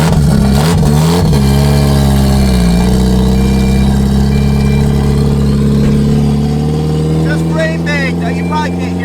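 A Mazda Miata with a loud, very short exhaust revs and then holds a heavy, rumbling idle right beside the listener, droning throughout and loud enough to swamp other sound.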